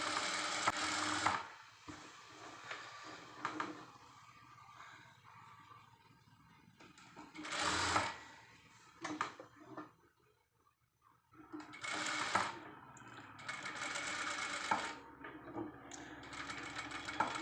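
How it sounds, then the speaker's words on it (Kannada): A sewing machine stitches along the edge of boat-neck blouse fabric in several close bursts of rapid whirring, with quiet pauses between runs. "ಎಡ್ಜಿಗೆ ನೀಟಾಗಿ ಹೊಲಿಗೆ ಹಾಕ್ಕೋಬೇಕು ನಿಧಾನಕ್ಕೆ ನೋಡ್ಕೊಂಡು ಹೊಲಿಗೆ ಹಾಕ್ಕೊಳ್ಳಿ"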